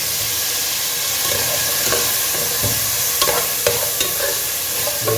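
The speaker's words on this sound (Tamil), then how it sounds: "இந்த எண்ணெயிலே கொஞ்சம் அப்படியே வதங்கட்டும்." Drumsticks fried and stirred in hot oil with ginger-garlic paste for a mutton kulambu, giving a steady close sizzle with scattered scraping stir clicks and no talk.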